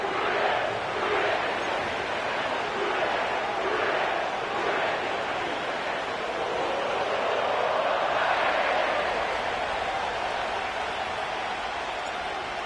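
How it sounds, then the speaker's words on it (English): A sellout football crowd fills Paycor Stadium in Cincinnati with a dense, continuous roar of cheering and chanting, loud and steady throughout, with rising swells. "sellout crowd has arrived at Paycor Stadium in Cincinnati"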